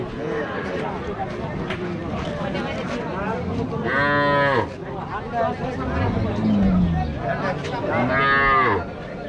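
A cow moos loudly twice, long drawn-out calls close by, over a steady murmur of people talking nearby at a cattle market in Rajshahi.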